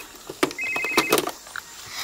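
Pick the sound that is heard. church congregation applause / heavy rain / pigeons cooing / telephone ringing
telephone ringing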